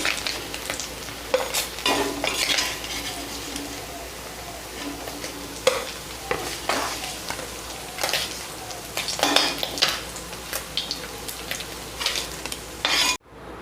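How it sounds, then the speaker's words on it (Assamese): Onions fry in oil left over from frying puthi fish, giving a steady sizzle broken by repeated stirring scrapes and clinks of a utensil in the pan. "পিঁয়াজখিনি অলপ ব্ৰাউন কালাৰ হোৱালৈকে ফ্ৰাই কৰিম"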